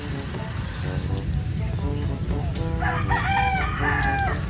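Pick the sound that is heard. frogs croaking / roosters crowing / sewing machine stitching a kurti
roosters crowing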